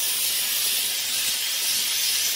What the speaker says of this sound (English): Look at all the steam.